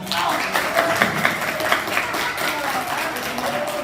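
Students at a Bangkok school for the blind alumni gathering clap in a steady, fairly loud burst. The applause runs through the whole stretch with a little crowd murmur beneath.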